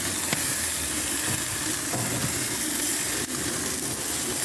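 Steam hisses steadily while jerk chicken cooks, a loud, continuous broadband rush with occasional clicks and pops, heard close up and without talk.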